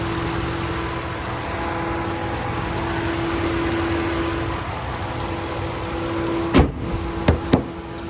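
A 5.7 liter Hemi V8 in a 2020 RAM 1500 pickup idles steadily with a low, even hum, then a few sharp clunks, like a door or panel, land near the end.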